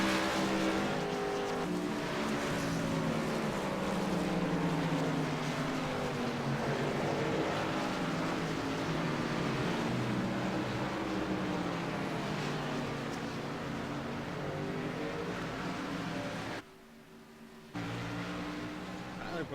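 NASCAR Truck Series race trucks on a road course, a loud sustained engine roar with shifting pitch as trucks pass, briefly cut near the end, with an announcer talking over it.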